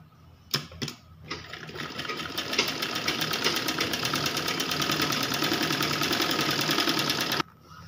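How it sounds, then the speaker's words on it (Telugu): Sewing machine stitching lining onto a blouse border, starting after a couple of clicks and running fast and steady at close range for several seconds before stopping abruptly. "దీన్ని విధంగా కుట్టేసుకోవాలి."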